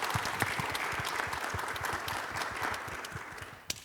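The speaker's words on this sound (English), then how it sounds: "can we all please just show our appreciation by giving our panel a round of applause?" Audience applause for a panel at the close of a youth symposium on post-secondary life, steady dense clapping from a crowd filling the room throughout, fading slightly near the end.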